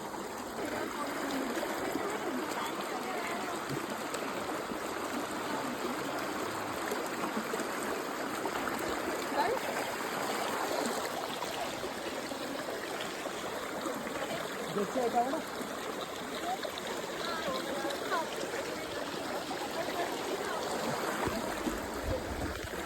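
A river stream flows steadily along a hiking trail, with a constant broad rush and trickle of water that stays even and close throughout, with no talking.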